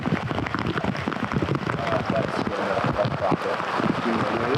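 Heavy rain pours steadily on the final morning of a wilderness canoe-camping trip on Lake Superior, a dense continuous hiss of drops drumming on surfaces nearby, with speech-like murmurs mixed in.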